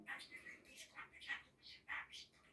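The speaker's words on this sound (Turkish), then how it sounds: "Bu arada bizim kuş gene bakın" A small bird chirps in short, bright bursts, several quick calls spaced across the moment, fairly close and clear over a quiet background.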